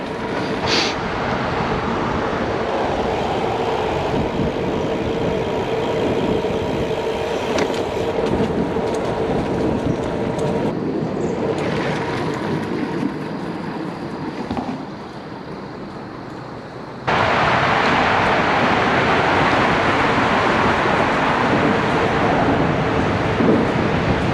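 Traffic on Georgia 400, a major commuter highway north of Atlanta, heard as a loud, continuous roar of vehicles that dips briefly and then surges back stronger partway through.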